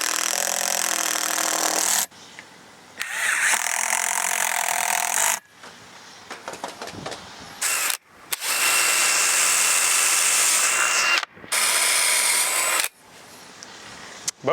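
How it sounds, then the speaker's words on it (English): A power drill driving two screws into a post extrusion in bursts, loud and close, with long runs of whirring and short pauses between. "just drive my 2 screws in right there"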